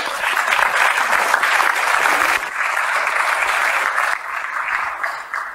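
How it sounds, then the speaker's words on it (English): An audience claps together in sustained applause at a talk on affirmation in marriage, loud and dense at first, then easing slightly and thinning toward the end. "Let's give them a round of applause."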